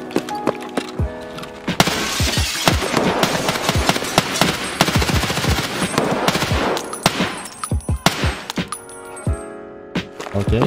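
Rapid gunfire in Escape from Tarkov on the Labs map, with sharp close shots and quick bursts packed densely through the middle, then more scattered single cracks and metallic clinks toward the end.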